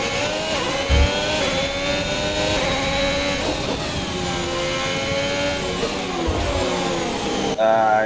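An F1 race car engine in F1 2021 howls continuously with a high, harmonic-rich whine, its pitch dropping and climbing as it downshifts through gears, loud and close throughout, with a brief thump near the start.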